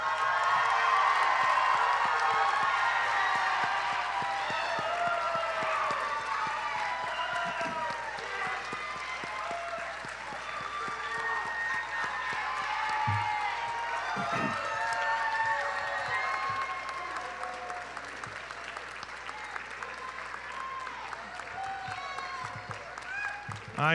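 A large audience applauds graduates at a Brunswick County mid-year graduation ceremony, sustained clapping with scattered cheers and whoops filling the hall for the whole stretch.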